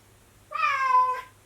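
A cat gives one drawn-out, clear meow close by during a quiet yin yoga session for lower back pain, rising and then falling over about half a second against a faint low hum.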